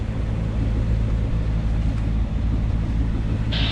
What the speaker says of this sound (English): getting ready to cut the engine, over